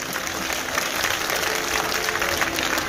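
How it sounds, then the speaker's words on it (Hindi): Sustained applause from a crowd welcoming guests at a public event in Madhya Pradesh, a dense, even roar of clapping throughout with no talk over it. "जोरदार तालियों से हार्दिक अभिनंदन करें हमारे सभी अतिथियों का।"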